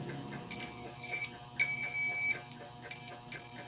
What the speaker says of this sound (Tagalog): Subukan natin sa tester kung dito sa buzzer din